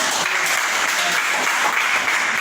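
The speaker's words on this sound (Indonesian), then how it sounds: "Tepuk tangan untuk kelompok." Steady dense applause from a classroom group, a continuous wash of many hands clapping at close range for the full length with no break.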